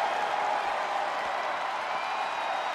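A wrestling arena crowd roars and cheers in a dense, loud, unbroken wall of noise with scattered clapping mixed in, and no distinct voices stand out.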